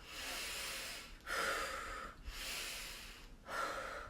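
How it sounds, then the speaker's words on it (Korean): A person demonstrates Lamaze breathing for childbirth, drawing deep, audible inhales through the nose alternating with breathy exhales; four close, hissing breath bursts follow one another at a steady pace. "코에 빨대를 꽂았다 생각하시고 크게 들이마시고"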